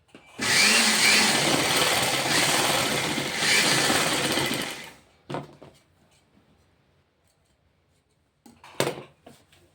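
A sewing machine stitching a size 28 princess-cut blouse runs in a loud, steady whir for about four seconds, then stops. A few quiet clicks and a brief rattle of fabric handling follow.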